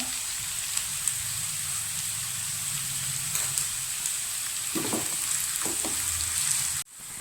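Very finely chopped onions fry with salt in a pan, making a dense, steady close sizzle like light rain, with a few soft stirring scrapes before it abruptly cuts off near the end, no voices.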